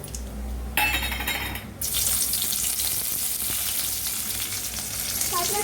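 Spices tempering in hot oil for a brinjal masala, a sudden loud burst of crackling sizzle that settles into a steady, dense frying hiss.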